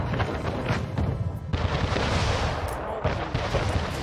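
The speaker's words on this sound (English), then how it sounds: "And let's hit this cannon tower." Cannon fire from towers and warships in a naval battle in Anno 1800: a continuous barrage of booming shots and blasts, rumbling heavily throughout with little pause.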